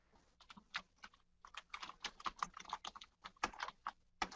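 Computer keyboard typing in quick irregular bursts of close, crisp keystrokes with short pauses, ending in a firmer press of the enter key; no one speaks.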